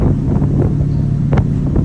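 Loud wind buffeting a microphone on a ferry deck near Hatsushima, Japan, a constant low roar with gusty rumble and a faint engine drone underneath.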